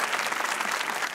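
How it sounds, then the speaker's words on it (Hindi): A studio audience at a Pakistani talk show bursts into dense, steady applause, close and loud, with a brief voice underneath. "तालियां बजानी चाहिए।"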